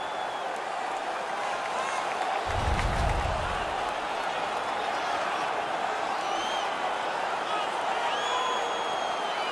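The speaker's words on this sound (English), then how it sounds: "The home crowd is ecstatic. They're making all kinds of noise." A dense arena crowd roars and cheers steadily throughout in the video game NHL 19, Buffalo Sabres versus Vegas Golden Knights, with a brief low thump partway through and faint whistles above the noise.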